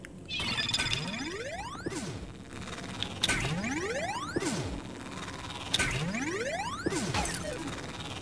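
A Splatoon Hop Sonar special weapon effect with repeated rising sweeps and mechanical ratcheting clanks. The layered bursts recur about every 1.2 seconds and stay loud and steady throughout.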